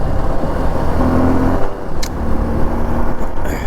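Suzuki V-Strom 250 SX motorcycle being ridden, a loud, steady engine drone with strong wind rush close to the rider, the pitch rising briefly and dipping once.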